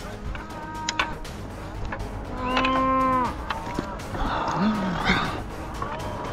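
Cattle hiding among trees during a cattle drive moo nearby, a drawn-out low call followed by another shorter moo, with rustling and scattered thumps around them.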